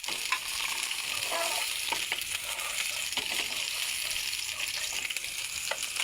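Meat for Bicol Express fries in a pan with a continuous close sizzle and spattering crackle, broken by a few stirring scrapes, no voices.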